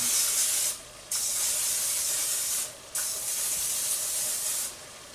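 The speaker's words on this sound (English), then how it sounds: "a little butter cooking spray. I'm just going to spray a little on here." Three bursts of butter cooking spray hissing from an aerosol can close up, separated by short pauses, with a quiet background hum.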